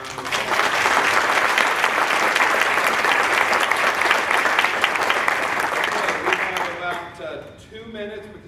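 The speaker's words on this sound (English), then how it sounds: "Let's give them another round of applause" An audience at a professional development meeting gives a long round of applause, dense clapping that stays strong for about six seconds before fading, after which a voice speaks.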